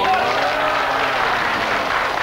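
A studio audience at a Swedish TV game show gives a broad, dense wash of applause that holds steady and loud for a couple of seconds without a break.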